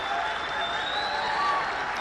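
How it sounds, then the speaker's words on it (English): A cricket crowd at a Nepal versus UAE one-day match, cheering and applauding as a broad continuous roar, with a whistle cutting through. "You can see the crowd cheering, standing for their team"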